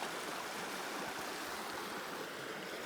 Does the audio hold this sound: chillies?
no